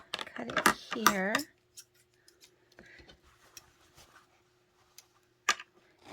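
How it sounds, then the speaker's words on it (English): Scissors snip through fabric for a soft journal cover, with a few sharp cuts and rustles after a short stretch of talk, then sparse, quiet handling noises and a final louder snip. "So I will cut it here."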